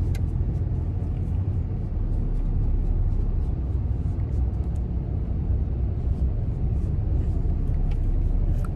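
Inside a moving bus, the engine gives a steady low rumble throughout, with faint light clicks and rattles on top, continuous and fairly loud, no talking.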